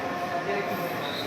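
A local commuter train near Virar, India, rumbles past at a distance, a steady broad roar of wheels and carriages with no clear beginning or end.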